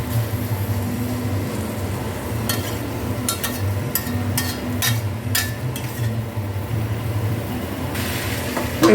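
Chicken pieces sizzling in masala in a hot pan, a steady close hiss of frying with scattered sharp clicks and light clatter of pieces being added, fairly loud throughout.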